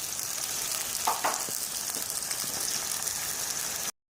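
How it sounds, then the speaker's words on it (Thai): Pork frying in oil in a wok, a steady close sizzle with a few brief clatters of stirring, ending abruptly in silence. "หมูนี่เดี๋ยวเราทอดนะครับทอด ทอดแล้ว"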